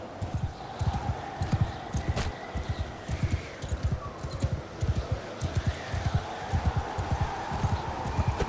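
Cavalry horse charging in a video game, a rapid, regular drumming of hoofbeats at moderate distance, steady throughout with faint background ambience.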